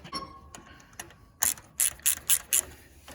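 Ratchet wrench tightening 25mm Torx bolts while installing a gas tank on a John Deere lawn tractor, with a series of five sharp, loud ratcheting bursts in quick succession after a few lighter clicks, close by with no talk.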